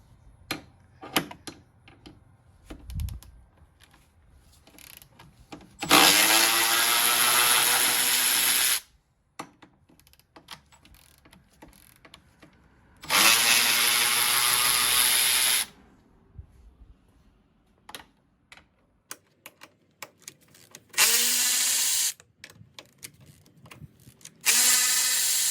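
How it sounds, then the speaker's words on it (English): Power tool zipping out 13 mm bolts on a Jeep JK during radiator support and grille removal, three loud bursts of a few seconds each separated by quiet pauses, with no talking. "All right, remove these 4 bolts."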